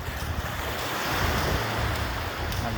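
Sea waves washing onto a beach, a continuous low roar of surf with wind buffeting the microphone, steady and fairly close with no voices.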